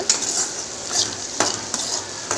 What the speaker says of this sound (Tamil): இது எல்லாத்தையுமே நல்லா எண்ணெயிலேயே வதக்கி விடலாம்